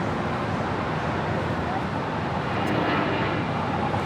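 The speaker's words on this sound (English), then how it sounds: "That is the Korean Air 747-8 making that left-hand turn, coming in from Seoul, flight 11" A Korean Air Boeing 747-8 arriving from Seoul turns on approach to LAX, its engines a steady, broad, distant roar that swells slightly partway through, mixed with outdoor wind and traffic noise.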